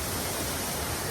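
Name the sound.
waterfall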